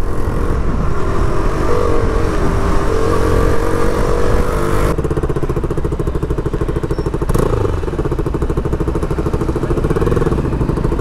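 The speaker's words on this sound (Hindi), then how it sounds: "भाई साहब इतने दिनों बाद बाइक चला रहा ना भाई" A modified KTM Duke 200 motorcycle is ridden, its engine droning loud and steady throughout with a rougher, shifted tone after about five seconds and a brief sharp burst near the seventh second, no talking.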